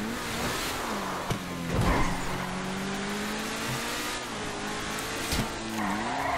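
Car drifting in GTA 5, tires squealing in long sliding tones over a steady engine drone, with a couple of sharp bumps along the way.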